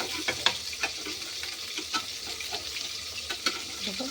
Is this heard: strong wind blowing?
no